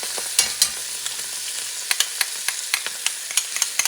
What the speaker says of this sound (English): Mix that baby up with the tomatoes.